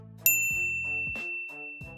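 A bright notification bell rings a single ding, its clear metallic tone struck sharply and left to ring out over soft, low background tones, with no voices.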